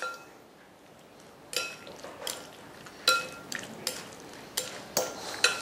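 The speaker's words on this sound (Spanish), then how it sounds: "Mezclamos con 2 tenedores." Two forks toss bite-size chicken pieces seasoned with minced garlic in a bowl, giving a run of wet squishing scrapes and sharp clinks of metal against the dish at uneven intervals, close and alone.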